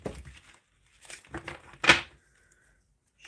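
Oracle cards being shuffled by hand during a live card reading, heard as a few soft riffling and crinkling bursts separated by quiet gaps.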